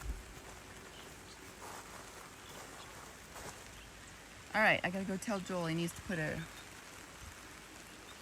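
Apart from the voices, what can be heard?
rain falling in the yard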